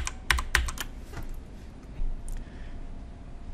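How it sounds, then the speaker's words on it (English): A few quick clicks of a computer keyboard as a password is typed, close and crisp, followed by a pause and a couple of softer taps. "I'm gonna put in my magical password."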